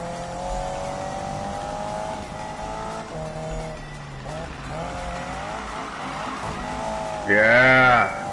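A car in a PS4 racing game drifts with a steady engine drone and long wavering tire squeals, ending in a louder rising squeal, while a voice talks over it.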